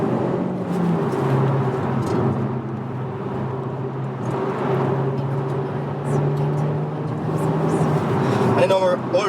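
Car drops a gear and accelerates while merging onto a motorway, a low engine drone rising under road noise while the driver keeps talking throughout.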